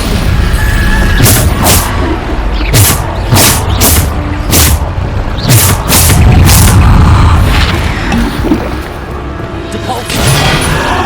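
Bombarda explosion spells from the Hogwarts Legacy video game go off as a run of loud, sharp booms and crashes, several in quick succession, layered with combat clatter and a voice shouting spell names.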